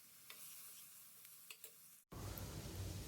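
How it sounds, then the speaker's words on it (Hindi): Vegetables with frozen peas and turmeric sizzle steadily in a pan while being stirred, a soft continuous frying hiss with a few faint scrapes, growing louder after a brief cut. "तो ये सभी सब्जियां डालकर इसमें अच्छे से मिक्स कर लेना है।"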